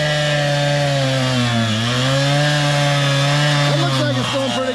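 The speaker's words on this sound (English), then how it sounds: "Hammer's over there getting right with a concrete saw on a Monday morning with some Blends oil in the tank." A gas-powered concrete saw running on a Monday morning drones steadily at high revs, close and loud, its pitch dipping briefly under load mid-cut, with no voices over it.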